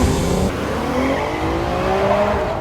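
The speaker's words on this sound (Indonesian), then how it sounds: "Dia melampiaskannya dengan mengendara mobil dengan cepat." A car driven hard and fast, engine roaring loudly throughout with rising pitched whine and tire squeal layered over a dense, continuous road roar.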